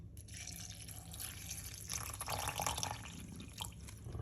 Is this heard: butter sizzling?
no